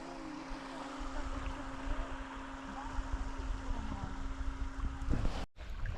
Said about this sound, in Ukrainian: Там вон пацани взагалі на катері.